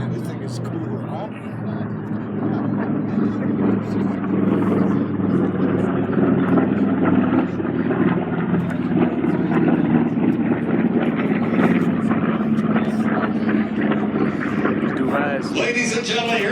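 A Grumman Avenger propeller warbird passes at an air show, a steady droning engine roar that swells and holds throughout, with an announcer talking over it.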